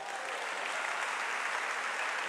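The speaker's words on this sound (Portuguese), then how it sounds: "Quem pode dar uma salva de palmas?" A church congregation applauds during a sermon, a dense, even wash of many hands clapping at once, steady and sustained throughout with no voices standing out.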